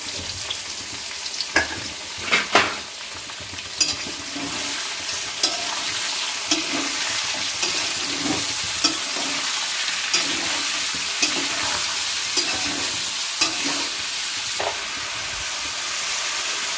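Onions with turmeric fry steadily in a pan, a continuous close sizzle broken by scattered spatula clacks and scrapes as they are stirred.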